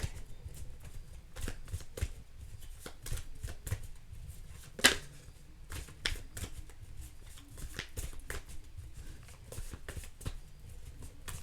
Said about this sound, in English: I have to shuffle some more, it's telling me.